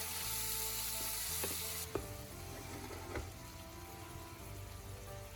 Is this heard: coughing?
no